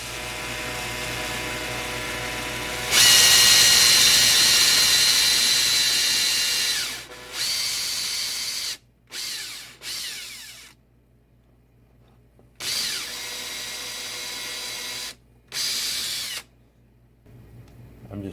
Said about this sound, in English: we're going to just drill through and peg one real quick for you.